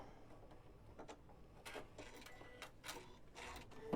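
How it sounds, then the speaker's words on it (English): A home sewing machine running a reverse lock-off stitch at the end of an appliqué seam on a quilted wall hanging, giving several short, quiet mechanical whirring bursts with faint ticking between them. "I can now press my reverse button on my machine and it will automatically do a lock off stitch for me"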